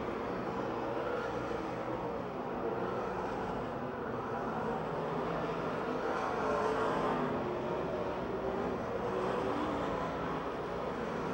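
Race cars circle the Pennsylvania Motor Speedway dirt track in Pittsburgh, a steady distant roar of engines that swells and ebbs gently as the pack passes, with no clear voices over it.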